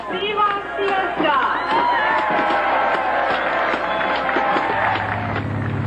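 A festive crowd at the San Antonio Fiesta opening, a dense wash of cheering and chatter with scattered clapping, loud and close, with voices in it.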